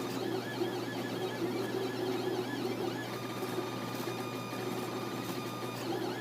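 A 3D printer runs steadily at close range. Its stepper motors whine and warble in shifting tones over a continuous low hum, and no one speaks.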